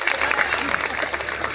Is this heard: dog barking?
no